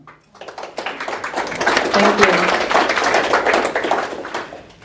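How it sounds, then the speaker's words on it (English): An audience at a product meetup applauds for speaker Anna, clapping building quickly to a full, dense round before easing off, with a brief spoken thanks over it. "So let's make a round of applause to Anna."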